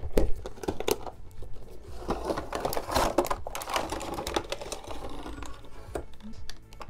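Plastic and cardboard packaging of a NECA Gremlins toy is handled and opened, with crinkling, tapping and clicking rustles in irregular bursts, close and moderately loud, without talk.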